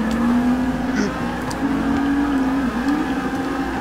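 Race car engine in Forza 6 holding third gear and powering out, a steady loud droning whine with slight pitch wavers throughout, close and continuous.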